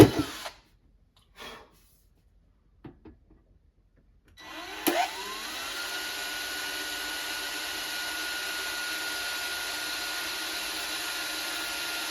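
After a few quiet handling clicks, a power drill driving drywall screws kicks in with a sharp start and then holds a long, steady whirring drone, fairly close.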